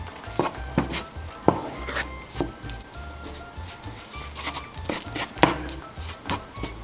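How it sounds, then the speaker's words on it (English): Chamoy rim paste being stirred by hand in a bowl, giving scattered soft scraping and tapping strokes against the container, fairly close and quiet with no talking. "Just keep stirring it."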